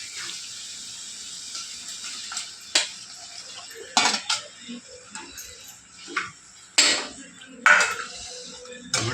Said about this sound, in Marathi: मटण टाकून मस्तपैकी हलवून घ्यायचं